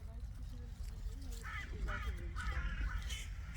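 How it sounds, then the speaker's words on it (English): Crows caw overhead several times in a row, moderately near, while people talk over the calls in a noisy outdoor setting. "Crows up there."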